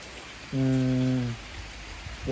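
Heavy rain pours down in a steady, even hiss throughout, with a short humming voice rising briefly over the downpour.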